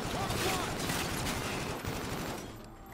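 Sustained automatic gunfire from a weapon in the space campaign of Call of Duty Infinite Warfare, a dense loud burst of rapid shots lasting about two and a half seconds before easing off.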